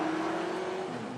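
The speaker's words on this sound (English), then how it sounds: "here's Fisher limping back to the pits in car number 9" A touring race car from the 2018 Touring Car Masters at Sandown, limping back to the pits with a suspected gearbox issue, drones past with a steady engine whine that gradually eases off, loud and close.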